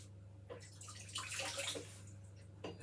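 Kitchen tap water running briefly to wet a spoon while baking a coffee and walnut cake, a soft close splash and trickle that swells and fades over steady background hum, with no voices.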